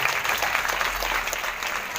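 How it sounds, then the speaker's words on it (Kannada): An audience at a religious discourse event in Yogapur, Vijayapura, claps loudly and continuously, a dense crowd applause with no voices standing out. "ಜೋರಾಗಿ ಚಪ್ಪಾಳೆ ಅಂತಂದ್ರಿ"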